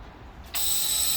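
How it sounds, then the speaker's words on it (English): Truck air brake emergency low-air alarm, which triggers at about 60 psi on a semi tractor-trailer, cuts in halfway through as a steady, loud high-pitched buzz that continues unbroken over a low idling rumble. "that is the emergency low air alarm, which comes on at approximately 60 psi"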